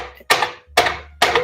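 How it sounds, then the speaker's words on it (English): Three sharp metallic taps on a bushing in a 2013 Infiniti G37X engine bay, evenly spaced about half a second apart, close and distinct with quiet gaps between. "I'm just tapping on that brass bushing, which probably didn't move at all."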